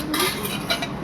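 A spoon stirs inside a pot, a short, close burst of metallic scraping and clinking that runs for about a second with no voices.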